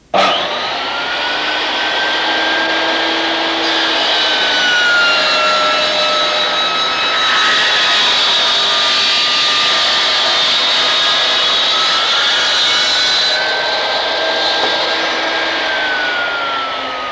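A circular saw in a Triton work centre cuts through wood, starting with a sharp spin-up and then a loud, sustained high whine of the blade under load for over fifteen seconds before easing off.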